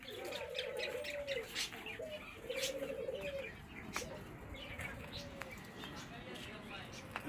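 Pigeons coo in repeated low, rolling calls with a few chirps, while people talk nearby over a busy background.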